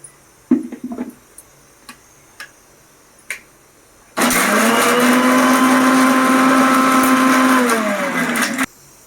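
After a few light knocks and clicks, a mixer grinder grinding masala whirs loudly for about four seconds with a steady high whine, then stops.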